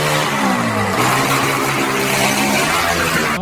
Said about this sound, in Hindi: 2006 हीरो एक्सट्रीम 125R का एग्जॉस्ट नोट सबटल होते हुए भी स्पोर्टी फील देता है।